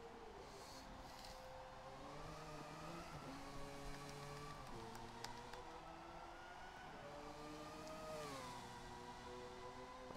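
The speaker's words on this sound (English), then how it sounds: "you can hear the cars like racing around in the background too" Group C race cars from Forza Motorsport run laps at Brands Hatch in the background, engines rising and falling through gear changes in a continuous faint drone, with no talk over it.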